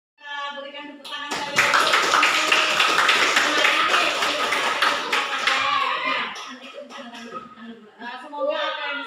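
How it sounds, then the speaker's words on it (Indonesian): Audience applause at an elementary school event on positive school culture in Talang Gedabu rises after a spoken introduction, holds as dense, steady clapping for several seconds with voices talking over it, then thins back to speech. "Berikan tepuk tangan"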